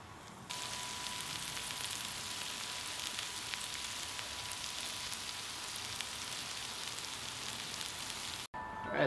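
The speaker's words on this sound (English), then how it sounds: "I'm just going to get a good sear on this flank" Flank steak searing on a hot grill for beer butter steak fajitas, a steady broadband sizzle that runs evenly throughout, close and moderately loud, with no talking.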